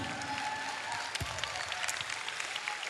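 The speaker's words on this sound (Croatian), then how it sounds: "Aplauzi za vas. Od svih za nas." A concert crowd applauds steadily, a dense, even wash of clapping heard from within the audience with no voices over it.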